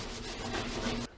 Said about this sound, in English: I can continue sanding, and the way I know that is I don't see my epoxy primer yet